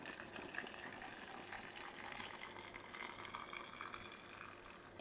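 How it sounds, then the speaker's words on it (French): Bean cooking water poured into canning jars of green beans for preserving, a soft continuous trickle and gush of liquid filling glass, faint and steady. "Je vais ajouter maintenant dans chaque bocal de l'eau qui a cuit."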